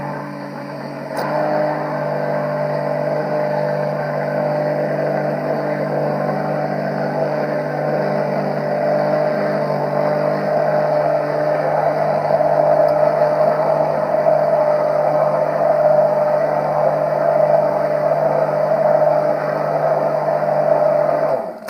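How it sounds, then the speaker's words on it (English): Russell Hobbs mixer with a powerful variable-speed motor whirring steadily while mixing all-natural liquid soap, a loud continuous drone that holds level throughout with no talking. "mixer that has quite a powerful motor, and I can vary the speed as well"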